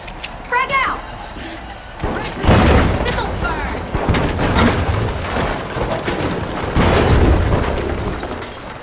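Frag grenade explosion in the video game THE FINALS, set in a game-show arena: a heavy boom at about two and a half seconds, then a dense roar of blasts, debris and gunfire. A second loud burst follows later, with an announcer's voice and chirps over the din.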